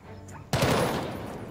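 A sudden loud burst of gunfire in the turn-based tactics game Jagged Alliance 3, starting abruptly after a quiet moment and ringing into a sustained rattling volley.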